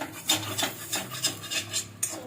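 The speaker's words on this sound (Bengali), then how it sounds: "এবার মশলাটা আমি তুলে নেবো একটা বাটিতে" A spatula scrapes spice paste out of a wok in a quick series of about seven short, raspy scrapes in an even rhythm, fairly quiet and close.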